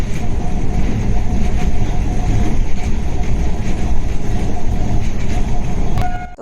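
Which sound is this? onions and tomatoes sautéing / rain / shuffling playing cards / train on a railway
train on a railway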